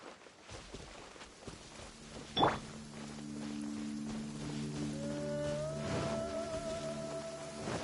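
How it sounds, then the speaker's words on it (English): Steady rainfall in the video game Genshin Impact, a soft continuous patter with a brief sharper hit and sustained tonal game sounds layered over it. "When stuck on a deserted island, rain is a precious source of drinking water."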